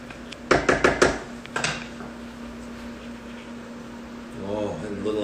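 A spoon clinks several times in quick succession against a pot as cheese is stirred into fusilli with sausage ragout and zucchini, off the heat. A couple more knocks follow, then only a quiet kitchen hum.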